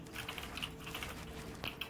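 Quick typing on a GK61 keyboard with yellow switches, a fast run of light clacky keystrokes close by, quiet and uneven in rhythm, with nobody speaking.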